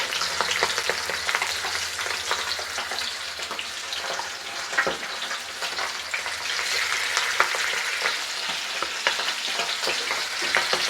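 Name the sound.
fish roe frying in a pan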